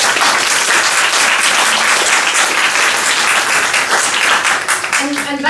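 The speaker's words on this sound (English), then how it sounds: "So let's give her another round of applause." An audience breaks into loud, sustained applause, many hands clapping together at close range.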